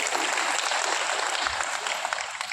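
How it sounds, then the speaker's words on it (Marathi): Audience applause at an Ayurveda expert's talk, a steady dense wash of hand clapping from a crowd lasting throughout, fairly loud and even with no voices over it. "झाल्या टाळ्या वाजवून"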